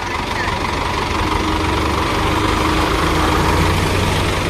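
A vehicle engine runs steadily as the clutch is released, a continuous loud low-frequency rumble with a knocking texture and no clear pauses.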